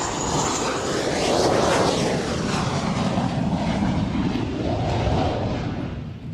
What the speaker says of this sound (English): on that F-18 that just landed with those streamers coming off.